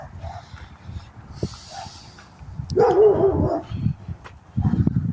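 Dogs bark several times at a moderate distance near an abandoned store in Midland, Texas, short gruff bursts separated by pauses, with some rustling and background noise between them.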